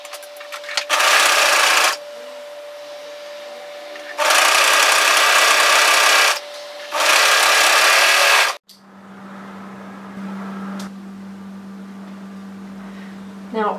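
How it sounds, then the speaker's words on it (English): An overlocker sews a hoodie shoulder seam through three layers in three loud, close, steady whirring runs with pauses between, followed by a lower, quieter steady hum. "we're going to overlock the shoulder seam together through the 3 layers"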